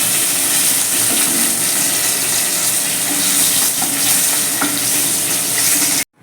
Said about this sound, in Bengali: পার্শে মাছ খুব নরম তাই সাবধানে কিন্তু উল্টে পাল্টে ভাজতে হবে